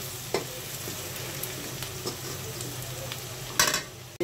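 Chili powder being stirred into onions frying in a pan for a fish and raw tomato curry: a continuous sizzle broken by several sharp spoon scrapes and clinks, louder near the end, with nobody talking.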